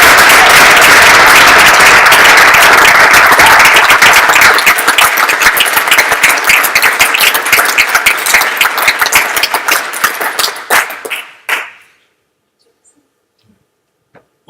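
An audience at the Christian Youth Work Awards 2014 gives a loud, dense round of applause for an award winner, sustained for several seconds before thinning into scattered claps and stopping abruptly.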